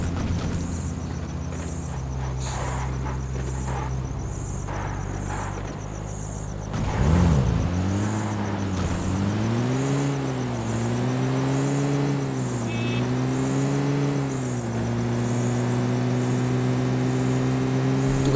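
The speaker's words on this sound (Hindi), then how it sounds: "जैसे ही मैं अपनी जीप लेकर यहाँ पर आता हूँ फ्लेयर गन के पास" Jeep in Battlegrounds Mobile India driven toward a flare gun: a steady engine drone with a continuous hiss, then a sharp jolt followed by the engine pitch rising and falling as it keeps going, loud and close.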